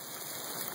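Rain falls after a hail storm, a faint, even hiss of drops on surfaces with no other sound standing out.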